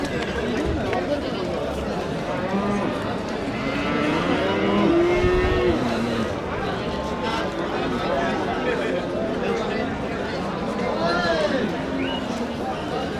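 At a crowded cattle market in Kattakurgan, a cow lets out drawn-out moos, with one strong call near the middle, over constant chatter and talking from people nearby.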